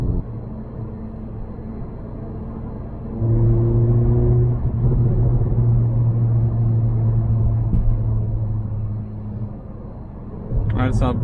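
A tuned Toyota Corolla drives along with a steady low engine rumble and road noise heard from inside, rising in load midway and easing near the end.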